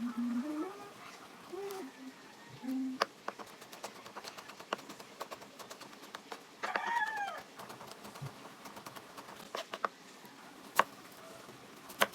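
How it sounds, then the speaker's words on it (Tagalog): Backyard chickens nearby make a few short clucks early on and a crow partway through, against a quiet room with light clinks from garlic and onion being peeled for spaghetti. "mukhang mga manok ata ni Papa ang nagvo-voice over"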